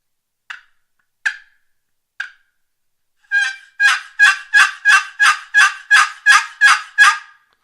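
A handheld turkey call worked by hand for elk and turkey hunting, giving three spaced single clucks followed by a fast run of about ten loud, close yelps imitating a wild turkey, with no talking.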